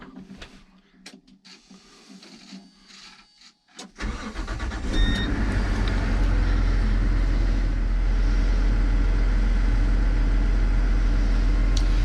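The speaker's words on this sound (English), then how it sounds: "Let's start the tractor up." A Versatile Nemesis tractor engine cranks and catches after a few seconds of quiet clicks, then settles into a loud, steady idle that fills the rest of the clip with a constant low rumble.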